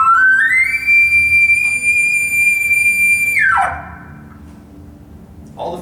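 A person imitates an elk bugle with a smooth, fluty whistle that climbs, holds a long high note, then slides down, with no deep guttural growl, clear and close.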